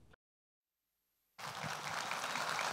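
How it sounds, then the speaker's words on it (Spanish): Broad, steady audience applause welcoming the hosts at a family values awards ceremony, bursting in after a brief silence and holding loud and continuous to the end. "Recibimos con un aplauso a los conductores Nereida Castillo y Livio"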